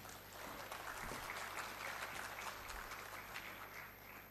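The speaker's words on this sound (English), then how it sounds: "Can we have a big round of applause?" Applause from the audience at a BRICS Youth Council entrepreneurship run-up event at IIT Guwahati, a steady, even wash of clapping that carries through to the end at moderate distance, with no voices over it.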